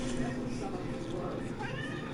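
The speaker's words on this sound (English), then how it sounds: "My cat's begging for chicken." A pet cat meows while begging for barbecue chicken, its cries blending into a dense, noisy room with people talking over it the whole time.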